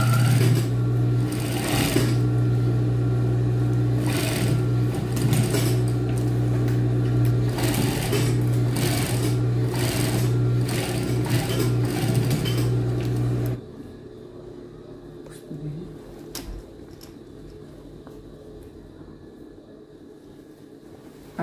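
Sewing machine topstitching denim jeans with two strands of thread run together, a steady loud mechanical whir lasting about thirteen seconds before it stops and the room falls quiet with a few faint handling clicks.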